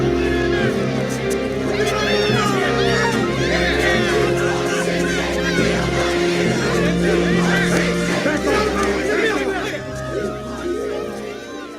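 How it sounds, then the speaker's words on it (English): A large crowd yelling and chanting angrily at a school desegregation scene, a dense continuous roar of many voices with shouts rising throughout, fading slightly near the end. "Did you hear that crowd shouting all those ugly things?"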